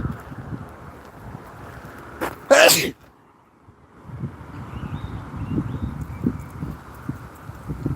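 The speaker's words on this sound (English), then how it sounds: "I need to sneeze." A single loud, close sneeze from a man playing Pokemon GO outdoors bursts out sharply over steady wind noise and faint rustling, followed by a brief hush.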